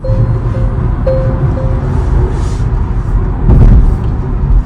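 A new Tesla car pulls away under acceleration in city traffic, a smooth low rumble of road and tyre noise swelling toward the end, with a faint electric whine and no talking.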